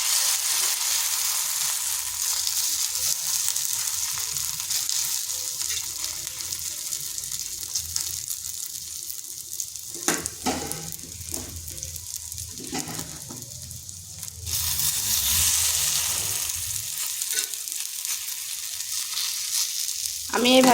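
Egg snack mixture frying in two spoons of oil on a tawa, a steady bright sizzle throughout with a few clattering bursts of stirring or handling midway, then the hiss returning strongly.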